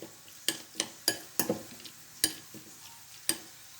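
Bacon and vegetables in a frying pan are stirred in a series of sharp scraping clicks, about eight in a few seconds, over a faint, quiet background sizzle.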